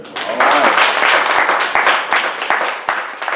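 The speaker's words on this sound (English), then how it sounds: "let's give a warm round of applause for the Arts Garage staff here for having us here" A crowd at the Arts Garage venue gives a warm round of applause for the staff, loud close clapping with a few sharp individual claps standing out.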